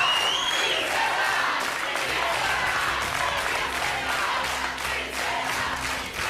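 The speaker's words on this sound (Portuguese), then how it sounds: "agora sim, a torcida da princesa Isabel" A television studio audience applauds and cheers for Princess Isabel, a dense, continuous wash of clapping and crowd shouting, loud and close, without a break.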